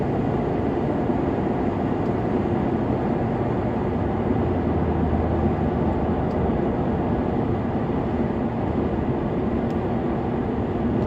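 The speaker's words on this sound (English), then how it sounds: "Even with just a single exhaust, the car sounds gorgeous going up a hill." Steady, loud engine drone and road rumble from a Ford Crown Victoria with a single exhaust pulling uphill, a continuous low roar heard from inside the car with no talking.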